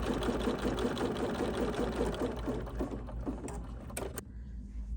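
A BERNINA 735 embroidery machine runs a basting stitch, a fast steady mechanical whir with rapid needle rhythm that carries most of the clip, then slows and stops near the end, with a few clicks.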